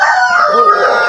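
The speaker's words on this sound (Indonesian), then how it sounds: "ini ayam Madura tulen" A purebred Madura chicken, a local Indonesian breed, calls with continuous raspy, harmonic clucking and crowing-like vocalisation, close and loud, with no pauses.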